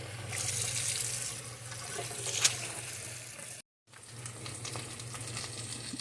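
Tap water runs steadily to rinse out an open can of spinach in a kitchen sink, a continuous close splashing rush with a brief splash peak and a momentary cut, no talk.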